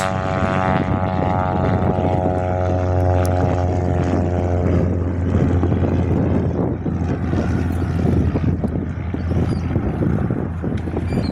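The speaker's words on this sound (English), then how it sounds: "Old Air Force trainer number 2 departs Jandakot." An old Air Force trainer propeller plane departs Jandakot airport on a windy day, its engine drone loud and close at first with a steady buzzing hum, then fading into rushing wind noise as it climbs away.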